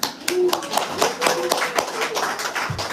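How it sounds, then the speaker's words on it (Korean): Scattered hand claps from a Korean church congregation applauding a child who answered a sermon question, a few people clapping nearby over murmuring voices and indoor room noise. "박하늘 어린이 박수"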